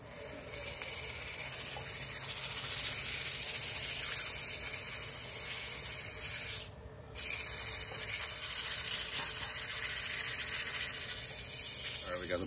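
Steady, close abrasive hiss of sandpaper against a spinning wooden birdhouse ornament on a woodturning lathe, continuous throughout with one brief dip in the middle.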